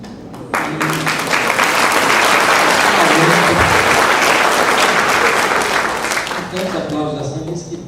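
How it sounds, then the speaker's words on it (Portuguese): Loud, sustained applause from a convention audience at a lecture, dense and steady for several seconds before easing off near the end, with a voice emerging over it. "Tantos aplausos assim"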